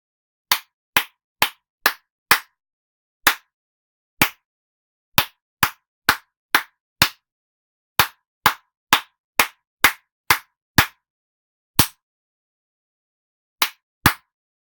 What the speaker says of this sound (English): come up and clap the pattern and let the class guess which one they're clapping